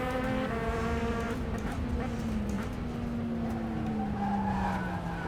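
A race car in the sim racing game rFactor 2 spins out and skids while battling another car, with steady engine drone and a long sliding tire squeal sweeping downward, loud and continuous throughout.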